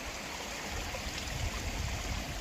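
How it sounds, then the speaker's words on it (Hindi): Glacial meltwater stream from snowmelt rushing steadily at close range during a high-altitude trek toward a summit, a continuous broadband flow with no talk. "ये अभी एक स्ट्रीम क्रॉस कर रहे हैं, ये बर्फ़ का ही पानी है जो बर्फ़ से निकला है"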